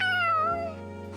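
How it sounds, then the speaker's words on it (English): A cat meows once in the Tales of Xillia 2 video game, a clear, drawn-out cry that slides downward over about a second and then tails off, loud and close with no speech over it. "That is a big cat."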